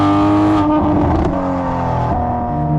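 An 800-horsepower turbocharged Toyota Supra with HKS suspension and exhaust drives hard on a 2.2-mile race track. The engine roars loud and close, and its pitch dips and climbs as it shifts and accelerates, with no voices heard.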